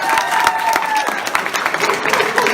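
Applause breaks out from an audience at a convention, a dense steady clapping with a few scattered cheers, fairly loud and continuous for the whole stretch.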